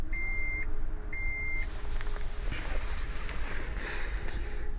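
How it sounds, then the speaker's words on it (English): Two short electronic chimes from a 2024 Cadillac Lyriq as its power tailgate starts closing, followed by a soft whir and hum of the hatch moving, with steady low background noise throughout. "And if you push that button again, it'll close right back up."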